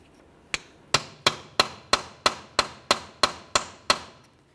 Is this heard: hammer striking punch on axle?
yes